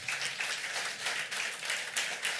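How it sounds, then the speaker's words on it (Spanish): Church congregation applauding together, a steady wash of dense clapping that pulses slightly in waves, moderately loud and close, with no voices rising above it. "¿Cuánto le dan un aplauso fuerte al Rey por eso?"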